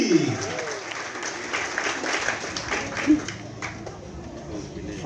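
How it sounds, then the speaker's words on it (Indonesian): Audience at a school voter-education event applauding a guest speaker, a moderate patter of clapping spread across the room with a few louder claps standing out, mixed with a murmur of voices. "Mari kita berikan tepuk tangan untuk Kak Resli."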